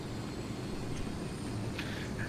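Helicopters in Ghost Recon Wildlands make a steady, muffled whirring drone at moderate distance. It holds an even level throughout, with no speech.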